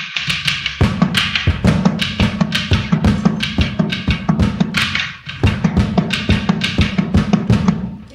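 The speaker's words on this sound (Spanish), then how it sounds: "una tambora que está hecha con PET" A homemade drum built from recycled PET plastic bottles and a pressed cardboard tube, struck in a quick, steady rhythmic pattern of loud, close, hollow thumps and taps, played alone.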